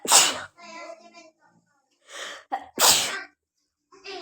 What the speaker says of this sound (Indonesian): aku bersin-bersin